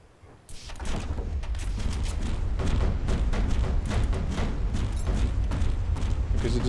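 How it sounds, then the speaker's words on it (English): Heartstone detonating inside a craft in the video game From The Depths, an abrupt onset into a sustained barrage of rapid, crackling thuds and booms, loud and continuous without pause. "The Heartstone keeps exploding."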